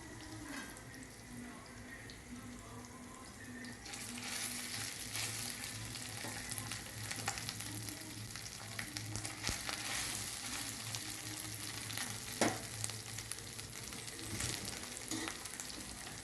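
Rice frying in a pan with curry leaves for raw tamarind rice: a steady, close sizzle that brightens as stirring begins, with scraping and clinks of a spoon against the pan throughout.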